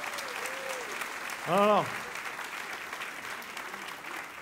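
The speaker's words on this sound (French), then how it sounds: "Soyez des hommes, applaudissez." Church congregation applauding during a sermon, a short burst of clapping with a voice briefly raised over it, and the crowd's applause lingering faintly underneath.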